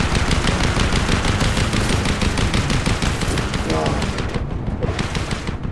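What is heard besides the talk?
gunfire in the video game Fortnite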